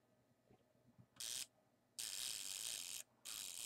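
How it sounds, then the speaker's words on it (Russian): Self-timer mechanism of a LOMO Lubitel 166 film camera, opened up for repair, whirs in two loud mechanical ratcheting bursts, a short one and then a longer one broken by a brief pause, close up after quiet handling. "Вот это автоспуск."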